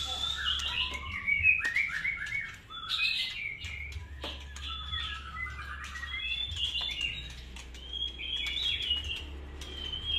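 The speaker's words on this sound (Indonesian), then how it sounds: "Kang Dimas, ini kapan burung kamu diambil nih?" Caged songbirds chirping steadily, with many overlapping high tweets and trills throughout and a low hum beneath.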